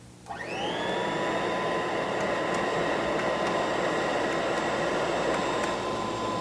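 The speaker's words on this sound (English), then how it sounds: "There, a definite change in the sound of the motor." A Kirby Heritage II vacuum cleaner motor spins up on carpet and settles into a loud, steady whine with broad rushing air noise. It sounds close and continuous, with no voices.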